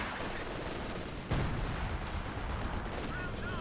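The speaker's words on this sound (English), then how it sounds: "There is the Howie barrage here." Howitzer barrage in a competitive real-time strategy match, a dense rumble of distant artillery fire and explosions that swells into a louder impact burst partway through, continuing steadily under faint commentary.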